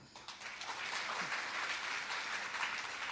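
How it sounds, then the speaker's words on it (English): An audience at a spiritual discourse on the Mahabharata applauds, a dense, steady wash of clapping that fills the whole stretch at an even, moderate level. "Clap."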